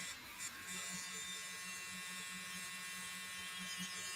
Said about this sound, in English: I'm just going in here with the blower and like widening things up and opening things up.